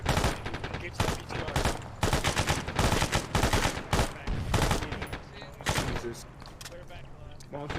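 Rapid bursts of automatic gunfire crackle in the ArmA military video game, dense volleys firing close and loud for several seconds before thinning into scattered shots.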